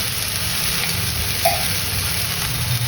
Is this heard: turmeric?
yes